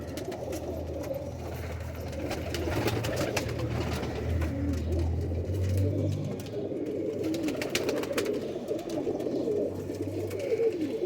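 Pigeons in a breeder's loft coo in soft, low, repeated phrases over a steady murmur of wings and movement, with faint bird chatter throughout and no talk.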